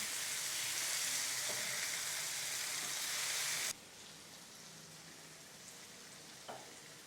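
Fish fries in a pan with a dense, close sizzle that cuts abruptly to a quieter crackle, with a faint utensil tap near the end.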